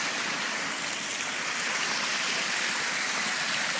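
Steady broadband rush of a waterfall pouring into water, loud and continuous throughout with no clear pauses or voices.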